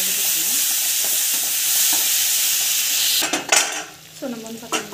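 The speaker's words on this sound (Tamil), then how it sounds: "டொமேட்டோ வந்து ஆட் பண்ணிடலாம். நல்லா வதக்கிக்கணும்." Tomatoes sauté in a hot pan with a constant loud sizzle, and a spoon stirs and scrapes against the metal near the end.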